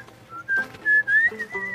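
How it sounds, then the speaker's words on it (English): A person whistles a short, wavering tune close by, a few sliding notes with brief pauses between phrases. "What did I tell you about whistling?"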